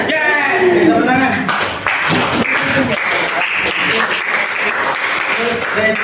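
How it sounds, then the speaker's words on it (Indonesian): Audience applause fills a classroom teaching session, dense broadband clapping sustained for about six seconds, fairly loud, with voices mixed in at the start. "Tepuk tangan."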